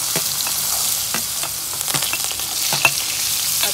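Carrots sautéing in a pan with vegetables for a Tamil mushroom gravy, giving a steady hiss with scattered light scraping stir strokes throughout, close and moderately loud.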